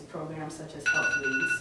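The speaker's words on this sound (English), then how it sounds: "Sorry, that was my phone." A phone rings during a debate, a clear electronic ringing tone that starts midway through and sits under a person's continuing speech.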